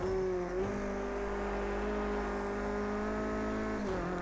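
A Renault Clio Cup race car at Rouen in a racing game, its engine holding a steady high drone with a brief dip in pitch near the start and again near the end.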